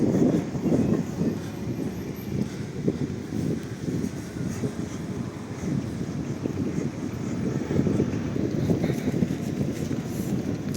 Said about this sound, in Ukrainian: Ай, трамвайчики.